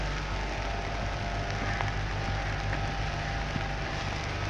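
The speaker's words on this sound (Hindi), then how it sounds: "काफ़ी बारिश हो रहा है" Steady rain hisses across the whole stretch, a dense continuous patter with a low background hum underneath and no voices.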